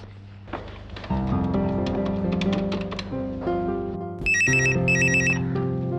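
A phone ringtone plays a melodic electronic tune, with a bright, repeating high-pitched ring pattern taking over near the end.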